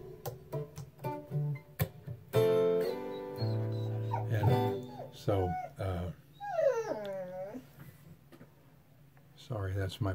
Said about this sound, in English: that's my puppy whining to get out here